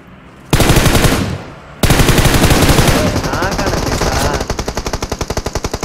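Automatic gunfire in the mobile game PUBG Mobile, loud rapid bursts of shots, a brief pause, then sustained fire tapering into evenly spaced rattling shots.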